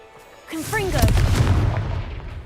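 A fiery Confringo spell blasts in Hogwarts Legacy, a loud booming burst that swells after a brief pause, with a rising whooshing tone and a sustained rumbling tail, mixed with faint game sound.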